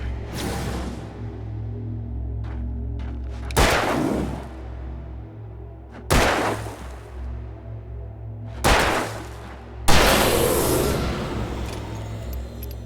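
Gunshots ring out in the video game Alan Wake Remastered: four sharp, loud bangs spaced a few seconds apart, each with a short decaying tail, over a steady low ambient drone.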